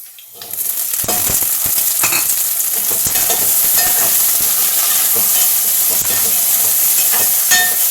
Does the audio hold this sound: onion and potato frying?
yes